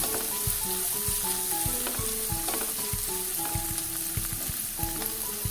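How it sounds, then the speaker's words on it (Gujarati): Mixed vegetables including capsicum and frozen peas sauté in ghee, giving a steady, close sizzle with repeated scraping and stirring knocks throughout, no voices. "ઘીની અંદર આપણે સારી રીતે આ શાકભાજીને સંતળાવા દઈશું"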